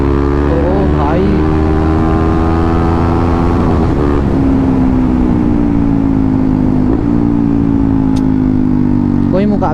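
A KTM Duke 390 motorcycle is ridden hard close to the microphone, its engine note loud and rising and falling through the gears, with wind rushing over it.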